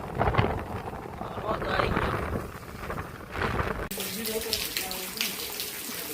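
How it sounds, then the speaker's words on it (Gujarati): Heavy rain pours down outdoors as a dense, continuous wash of noise. Partway through it turns brighter and hissier, and wind buffets the microphone. "જો ગાઈસ, બહુ જ વરસાદ ચાલુ થઈ ગયો છે"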